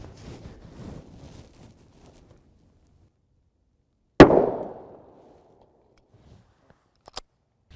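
A 9mm DefenseCore round fired through laminated windshield glass into gel blocks: a single loud, sharp gunshot crack with a brief decaying ring, followed by a couple of faint clicks and light handling noise.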